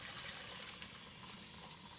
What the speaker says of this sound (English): turn on your sink and drain the pasta.